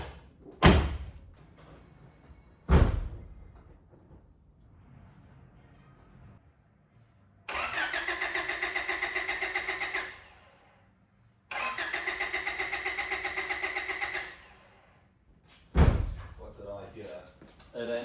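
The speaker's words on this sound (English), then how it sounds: "hopefully the car starts up when I give it a turn over," A Honda Prelude under restoration with its coil pack plug unplugged cranks without starting: two long steady whirring bursts of the starter, loud and close, with door thumps before and after and a person talking.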